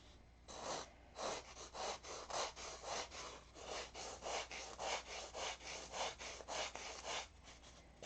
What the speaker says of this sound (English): Matter of fact, I get better control over the little file here.